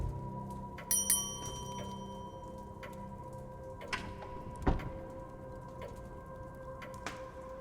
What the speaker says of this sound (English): If you need assistance, you can ring the bell in the lobby.